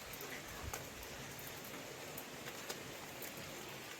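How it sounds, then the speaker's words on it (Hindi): Steady rain hissing evenly across the whole stretch in Mithila, with a few faint drips and taps, no voices. "बारिश हो रही है।"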